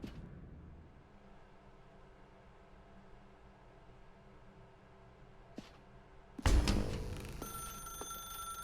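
In The Stanley Parable, a telephone suddenly rings loud and close after a long quiet stretch of faint room hum, with a sustained ringing tone that then holds steady.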